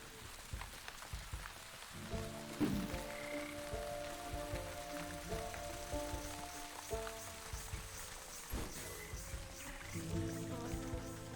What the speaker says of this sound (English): I love the fact there's all those frogs there.